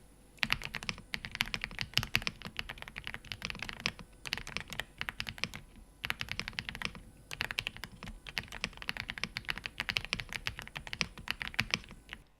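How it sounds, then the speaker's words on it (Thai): Clacky Mchose K87 mechanical keyboard typing in steady bursts of quick keystrokes with brief pauses between, close up and alone. "sound test สั้นๆ ของคีย์บอร์ด m s h o e s K87"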